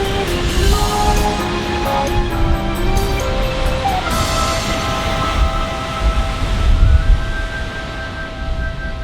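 Strong wind roars steadily on an Icelandic hike near a smouldering volcano, loud and unbroken throughout with faint steady tones over it.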